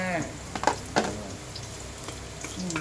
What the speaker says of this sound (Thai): ผัดกระเทียมพอให้หอมเนาะ